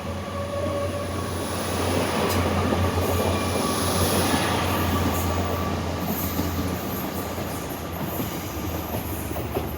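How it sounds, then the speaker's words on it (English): An IET train pulling out of Newport, South Wales, working hard on diesel power, a loud continuous engine drone with rumbling wheels and faint high tones, close and unbroken throughout. "Mega 2-tone given off the IET as it pulls out of Newport"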